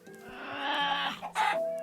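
A Minecraft chicken clucks in two short bursts of game bird noise, loud and close, over a layered synthetic game background with no talking.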